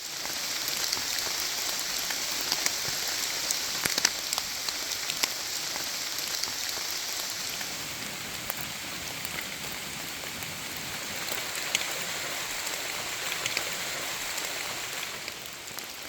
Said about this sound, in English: it rained hard last night